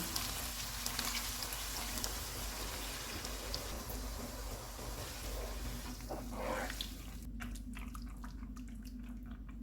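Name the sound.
water poured into cooking pot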